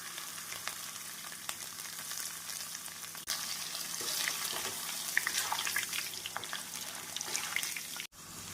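Potato slices frying in hot oil over a high flame for crispy chips, giving a steady, dense sizzle that runs almost without a break and is briefly interrupted near the end.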